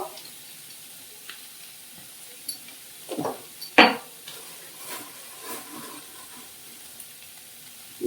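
Spiced curry paste with chilli, turmeric, cumin and coriander powders and jaggery being sautéed in a pan: quiet stirring scrapes and soft sizzle, with a few sharper utensil clinks, one loud knock near the middle.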